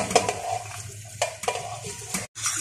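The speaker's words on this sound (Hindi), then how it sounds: "इसके अंदर हम स्पैगेटीज मिक्स कर रहे" A utensil mixes spaghetti and a spice mix in a pot for Memoni beef khaowsay, making close scraping and clinking stirs with a faint sizzle beneath and a brief pause near the end.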